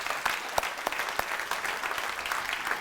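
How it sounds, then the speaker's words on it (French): Audience applause fills a gala evening marking a hospital foundation's 40th anniversary, a steady dense clapping from a large crowd with a few sharper claps standing out, no talking over it. "Je pense que ça mérite un bon applaudissement pour tout le monde qui a été bénévole."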